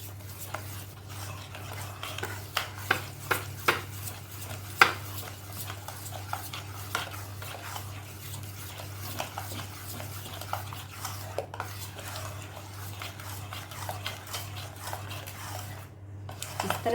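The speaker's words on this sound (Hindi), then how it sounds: "इस तरह से हम इसे अच्छे से फेंट लेंगे।" Milk whisked into a maida flour batter in a pan for a creamy sweet: soft, continuous stirring and scraping with scattered light metallic clinks, close, over a steady low hum and with no voices.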